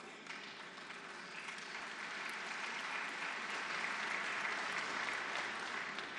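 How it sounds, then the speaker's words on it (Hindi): An audience at the St. Petersburg International Economic Forum plenary session bursts into sustained applause for a prime minister's speech, many hands clapping in a dense, even roar that builds slightly and continues throughout. "लेकिन अब ज्यादा ताली एक और बात पर आपको बजानी पड़ेगी"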